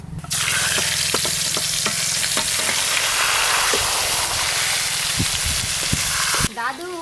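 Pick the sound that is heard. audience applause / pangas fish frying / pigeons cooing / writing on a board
pangas fish frying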